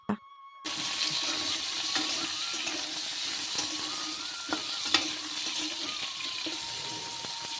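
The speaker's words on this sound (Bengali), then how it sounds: "আর আলু ভাজা করছি" Potatoes fry in a pan with a continuous close sizzle, sharp clinks of utensil scraping breaking through now and then, and a faint thud at the start before the frying sound comes in.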